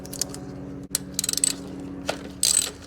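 Ratchet wrench with a 10mm socket loosens a bolt on a car engine cover, several quick bursts of close, sharp clicking separated by short pauses.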